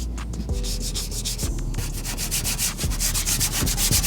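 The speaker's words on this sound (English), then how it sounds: "you can hear when you rub your hand over the vehicle that there's this like texture, this coarseness to it" A hand rubbing across gritty, rough car paintwork before claying, a soft, close scratchy friction with repeated strokes, quiet and without talk.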